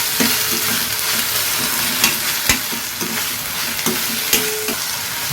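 Onion and tomato sizzle in hot oil in a pan while a spoon stirs them, a steady loud frying hiss broken by repeated scraping clicks against the metal, with no voices.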